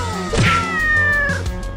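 A cat lets out a single loud, drawn-out meow close by, rising then falling over some background noise.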